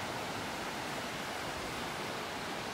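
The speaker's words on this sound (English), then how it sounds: "Got a few little waves out here this morning, breaking on the sandbars." Small ocean waves breaking on sandbars along a Gulf beach in North Naples, Florida, on an overcast morning; a steady, broadband wash of surf that holds constant throughout, fairly faint with no voices.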